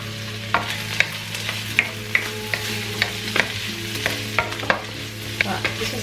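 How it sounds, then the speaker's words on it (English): Chopped chestnut mushrooms sizzle steadily in a frying pan, with a series of sharp, regular scrapes and taps as a utensil stirs them every half second or so, close and clear with no talking. "Now I'm going to add my mushrooms. So I've got about 4 mushrooms here that I've chopped up, chestnut mushrooms"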